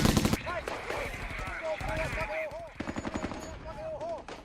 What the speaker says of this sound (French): La mitrailleuse s'est mise à lui tirer dessus.